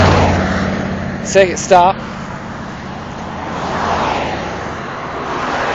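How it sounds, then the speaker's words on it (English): Highway traffic rushes past in a broad, continuous roar that swells and fades as vehicles go by, with someone speaking briefly over it. "there's a lot of traffic"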